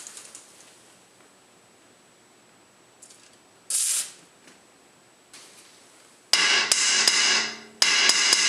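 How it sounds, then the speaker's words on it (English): Metal hammer strikes on the CV joint axle shaft of a BMW E46 3-series, worked loose during a repair: a few short taps, then two bursts of loud, rapid hammering close by, with no talk. "I kind of hammer it in to get it loose a little bit,"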